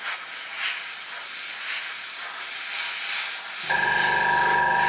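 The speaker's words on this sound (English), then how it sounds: "And there's a compressor again." Airbrush compressor for paints hisses softly in the background, then kicks on loudly near the end with a steady close motor drone and tonal whine.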